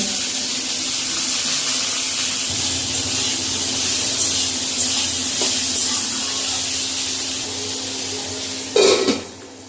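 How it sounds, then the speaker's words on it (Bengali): Bitter gourd frying in a pan gives a steady, fairly loud sizzling hiss that holds for the whole stretch, with a brief louder burst near the end and no talk. "রান্নাঘরে যেয়ে আমি প্রথমে আগে করলাটাকে ভেজে নেব"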